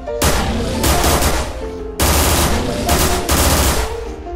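Loud, close gunfire rips out in Garry's Mod as shots aimed at a barrel come in rapid automatic bursts, two sustained strings of fire separated by a brief gap, each punctuated by heavier cracks.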